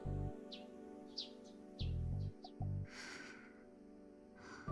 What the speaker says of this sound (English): I met the morning with the sound of chirping sparrow